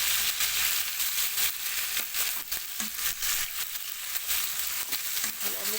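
Kebab meat fries with pepper and nutmeg in a pot, a loud continuous sizzle with scraping stir strokes and occasional clinks, close up and with no talking.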